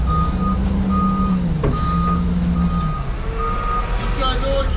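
Steady repeating reversing beeps from a Ford truck backing up, loud and close over a low engine rumble, with a voice talking at points.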